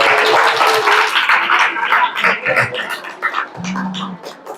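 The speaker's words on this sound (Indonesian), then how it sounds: "Tepuk tangan untuk Bu Snewi" An audience at an Islamic study lecture claps together, a burst of dense applause that thins into scattered claps over a few seconds, with some murmuring underneath.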